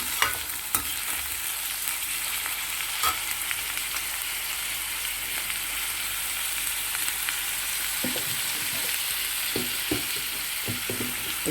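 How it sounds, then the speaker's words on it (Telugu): Sliced onions frying in a pan for a chicken dish, a steady broadband sizzle with occasional sharper crackles and stirring scrapes, close and continuous with no talking. "వీటిని బాగా వేగనివ్వాలి చక్కగా వేగనివ్వండి"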